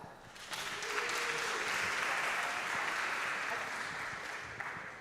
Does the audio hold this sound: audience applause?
yes